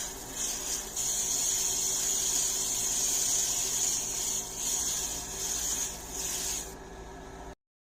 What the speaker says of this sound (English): now it's time to airbrush the final layers of 2K clear to the whole rim